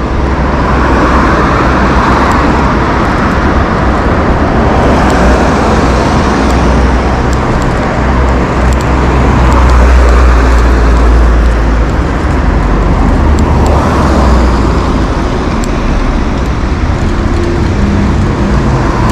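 Dense road traffic on a busy highway roars steadily and loudly throughout, with cars, buses and trucks blending into a continuous low rumble. There is no talk.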